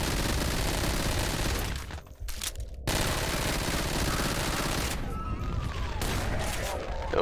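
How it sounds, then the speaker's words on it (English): Submachine gun firing in the Doom mod Chemical.wad with Kan: Awakening, a dense, loud stream of rapid automatic shots filling nearly the whole stretch, with two short pauses in the burst. "so that little submachine gun here is actually pretty strong"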